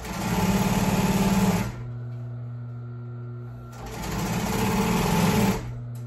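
An upholstery sewing machine runs in two fast stitching bursts, its rapid mechanical chatter pausing to a steady motor hum in between.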